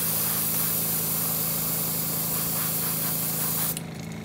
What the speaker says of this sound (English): you want to come to the bottom of the bait with some opaque yellow, and you want to spray probably 2/3 of the bait.